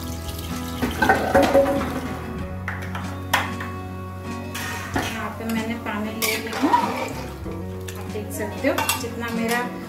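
Water poured into a pot of mutton curry on a home kitchen stove, with splashing, pot clatter and stirring noises coming in bursts over a low steady hum, close and fairly loud.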